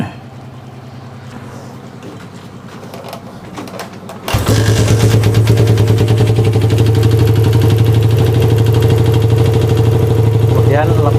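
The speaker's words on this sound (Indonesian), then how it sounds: "saya akan hidupkan motornya" A Suzuki Satria FU 150 motorcycle engine starts abruptly and settles into a loud, steady close-up idle, with a person talking during the quiet moments before it fires.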